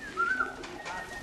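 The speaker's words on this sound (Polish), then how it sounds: "O, siadł kolejny gołąb u niego, taki ciemny widzę." A dark homing pigeon coos once, close by, at a loft during the return of young birds after a race. The call is a soft warbling note that follows faint outdoor background noise.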